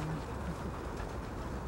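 Pigeons cooing while being fed in the Kamennye Palatki forest park, a steady low murmur of coos close by over soft outdoor background noise.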